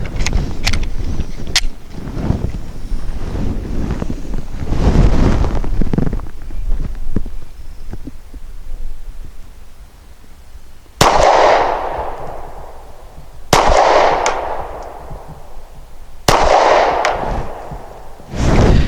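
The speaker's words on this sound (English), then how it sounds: "I'll be shooting the Brown Bear Lacquered Steel Case 115 grain ammo" Three sharp, loud gunshots from a Glock 43 subcompact pistol firing Brown Bear lacquered steel-case 115 grain ammo, spaced a few seconds apart, following a stretch of outdoor rustling and handling noise.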